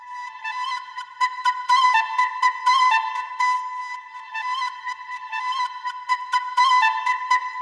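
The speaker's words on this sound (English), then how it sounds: "And then finally, I just had this flute." A sampled flute melody from a dark guitar-style hip-hop beat, playing alone in short breathy phrases and sustained notes with rhythmic pauses, fairly loud and close.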